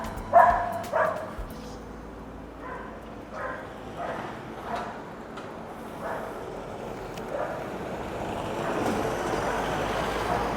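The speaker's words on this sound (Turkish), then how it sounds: "köpeklerimiz de havladı" Several dogs bark in short bursts at a distance around the Marqués de la Rambla square in Úbeda, Spain, scattered through steady street and traffic noise, with a louder vehicle rumble building toward the end.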